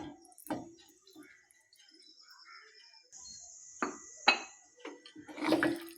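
Jilebi fish pieces are mixed with spice masala in a bowl for fish chukka, with quiet wet squishing and scattered light clinks of bowl and utensil, some sharper knocks near the end.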